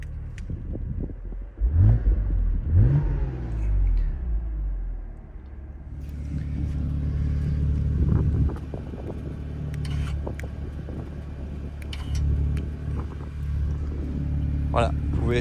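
A 2011 BMW Z4 sDrive 2.5L engine revs with rising and falling pitch, then settles into a steady, close rumble, with some talk alongside.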